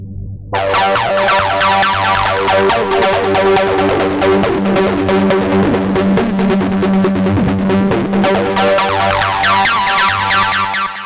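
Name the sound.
ambient acid 303 synth with reverb and delay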